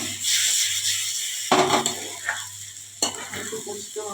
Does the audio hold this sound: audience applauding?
no